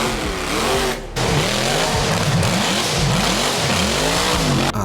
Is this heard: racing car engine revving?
yes